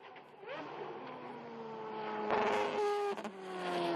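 A Mazda 787B rotary-engined race car passes on the track at Sydney Motorsport Park, Eastern Creek, a fairly faint rising engine whine that swells as it nears and climbs in pitch through gear changes.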